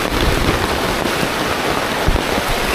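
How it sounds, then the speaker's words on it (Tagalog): Heavy storm rain pours steadily onto a tree house camp, a dense, loud, unbroken roar with occasional heavier drops standing out. "Kasi bumagyo na, oh. Lakas ng ulan."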